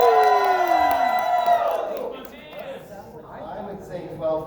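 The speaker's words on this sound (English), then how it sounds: "All right, cheer for 12th Doctor." Convention audience at AwesomeCon cheering and whooping for the 12th Doctor, a loud burst of crowd voices with rising shouts that swells at first, then settles into a busy murmur of cheers.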